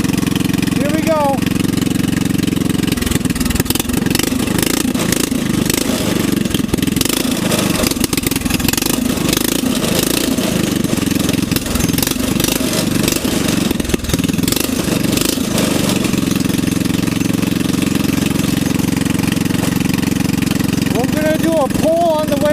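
A lawnmower-engine go-kart runs steadily and loud throughout, its small engine droning with a clunky rattle from a rubbing chain, swelling as it pulls away on a first ride.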